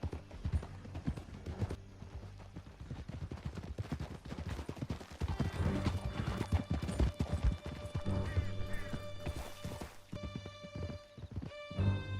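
Several horses gallop hard through a canyon in the western video game Red Dead Redemption 2, with steady rapid hoofbeats and an occasional whinny over a thick music bed, plus scattered gunshots and crashes.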